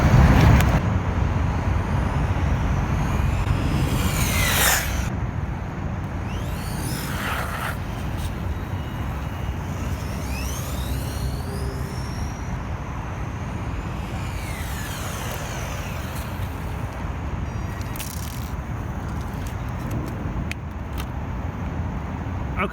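A WLtoys A979B RC truck making a top-speed run, its motor whine and tyre roar sweeping past several times over steady outdoor background noise, with no talking.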